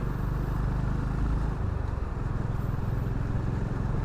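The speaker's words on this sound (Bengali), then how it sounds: "আমি ধীরে ধীরে গিয়ে বাইকটাকে" A Honda Hiness motorcycle rides slowly through traffic, its engine a steady low throbbing rumble, close and continuous, with road and wind noise underneath.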